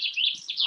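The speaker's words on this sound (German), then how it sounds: "Vögelchen." A small bird gives a quick run of high, thin chirps, clear and close, with nothing else audible.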